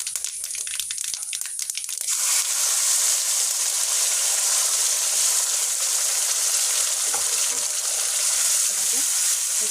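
Panch phoron, black cumin and dried red chilli dropped into hot oil for a Bengali potol curry, bursting into a loud, steady hiss of frying after a brief quieter moment, sustained and close, with some faint clatter.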